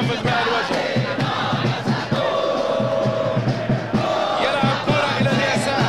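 A stadium crowd in the PES 2017 football video game roars steadily throughout, a dense continuous wall of chanting and cheering from the stands with no talk on top.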